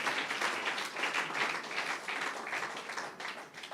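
A church congregation claps for Jesus during an Easter sermon, a dense, steady wash of applause lasting a few seconds at a moderate, somewhat distant level with no voices on top.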